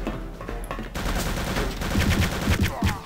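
Bursts of enemy gunfire fill the action of the Return to Castle Wolfenstein shooter game, loud and continuous with sharp repeated shots and no talking.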